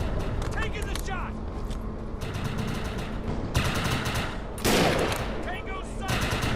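Gunfire in the shooter game Defiance 2050, rapid crackling bursts of shots spread through the clip with a loud burst near the end, mixed with game ambience and faint voices.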